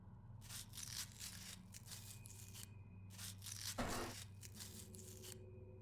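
Slicing open a body in the Autopsy Simulator video game, a wet tearing, crinkling cut sound in several long bursts with a sharper crunch midway, moderately loud over a low steady hum.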